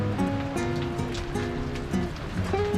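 Heavy tropical rain falls steadily at Marie-Galante, a dense continuous hiss of downpour with a low tonal hum mixed beneath it and no talk.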